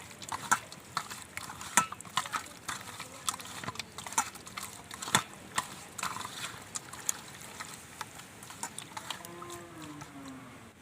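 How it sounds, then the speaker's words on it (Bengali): Lote fish being mixed by hand with spices, chilli paste, pepper and cumin powder for a marinade, heard as soft, irregular wet squelches and clicks that stay close and quiet throughout. "এবার ভালো করে ম্যারিনেট করে নেব"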